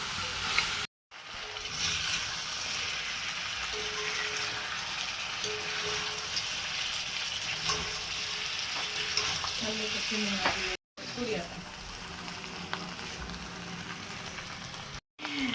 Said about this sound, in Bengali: এটা এখন আমি কম করে হলেও বিশ মিনিট মতন কষাবো